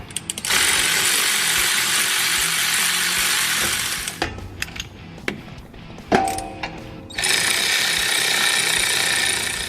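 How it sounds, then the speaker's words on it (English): Power tool whirring in two long bursts while a 16 mm differential bolt is removed for a brace install on a Hellcat, with metallic clinks and rattles of the bolt and tool in between. "the first step is to remove this left differential 16 millimeter bolt and then loosen this right differential 16 millimeter bolt"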